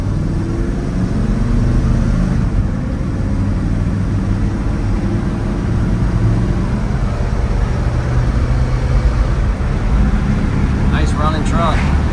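A restored 1986 Ford F-150 4x4 pickup with a 302 V8 and automatic transmission idles steadily nearby, its low rumble continuous throughout, with someone speaking briefly near the end.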